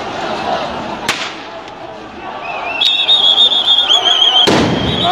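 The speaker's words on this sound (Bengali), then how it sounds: "পুলিশের পক্ষ থেকে সাউন্ড গ্রেনেড নিক্ষেপ করা হয়েছে মিছিলটি ছত্রভঙ্গ করার জন্য" Police sound grenades thrown to disperse a street march, with two sharp loud blasts a few seconds apart over crowd noise, and a shrill whistle-like squeal sounding between them as people shout.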